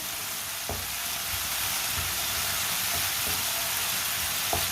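Radish cooking with tomatoes in a pan while a spoon stirs it, a steady close sizzle with a few soft knocks of the spoon, and no one talking.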